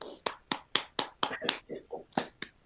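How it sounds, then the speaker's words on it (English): A few people at a board meeting clapping, about a dozen close, sharp claps in a loose, uneven rhythm with short gaps between them. "Nisha, lead our applause."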